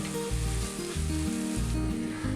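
A mixer grinder coarsely grinds soaked green gram for vada: a loud, steady motor whir with pulsing low tones that shift in steps, and no voices.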